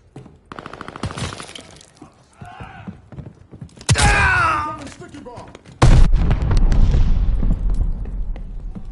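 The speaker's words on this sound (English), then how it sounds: "Allies calling a mortar barrage." Heavy explosions from a mortar barrage in a video game: two loud, deep booms a couple of seconds apart, each followed by rumbling debris, with shouts and gunfire-like crackle earlier.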